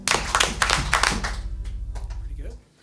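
Audience at an acoustic concert clapping in time with a song, a run of sharp, close, evenly spaced handclaps over music that then gives way to softer sound.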